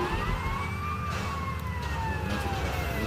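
A police car siren wails in the video game GTA Vice City, a rising and falling electronic tone sweeping over a rumble of traffic noise.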